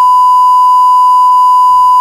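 A loud, steady censorship beep added in editing, a pure high tone held for about two seconds over near silence on a car talk podcast.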